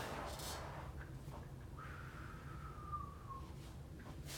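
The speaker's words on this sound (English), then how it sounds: "Oh, some whistling" A faint, thin whistled tone glides slowly downward for a couple of seconds over a quiet room background.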